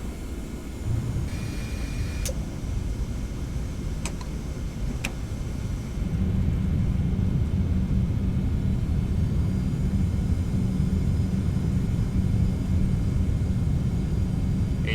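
A Boeing 717 touches down at night at Innsbruck in a flight simulator game, a steady engine and rolling rumble that deepens and grows louder midway, with a few sharp clicks early on, no voices.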